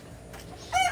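A young stag rooster gives a short crow with clucking near the end, close and moderately loud over quiet background noise.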